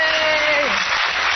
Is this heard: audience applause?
yes